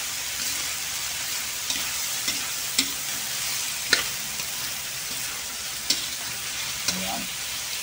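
Pansit bato noodles with Baguio beans sauté in a pan with a loud, steady sizzle, punctuated by occasional clacks of the stirring utensil, close up and with no speech.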